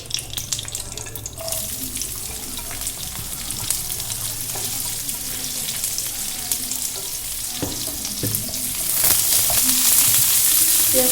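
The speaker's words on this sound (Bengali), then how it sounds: "এবার নাড়াচাড়া করে ভেজে নেব পেঁয়াজটা" Chopped onions sizzle and crackle in hot oil while being stirred in a pan, a loud, continuous frying hiss with scraping stir sounds that grows fuller near the end.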